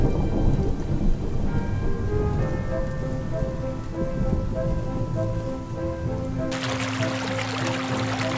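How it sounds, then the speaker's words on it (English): A violent night thunderstorm in Kielce, Poland, brings heavy rain and hail: a loud, constant downpour roars close by while deep thunder rumbles through it. "gigantic hailstones unexpectedly pour down like the wrath of Mother Nature"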